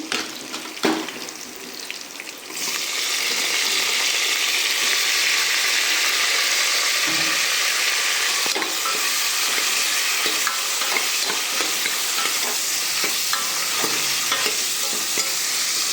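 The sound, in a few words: drumsticks frying and being stirred for sambar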